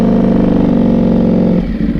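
Ducati Panigale V4 motorcycle engine idling or revving at low RPM, a loud, steady mechanical drone with a persistent rattle, close by, briefly dipping near the end.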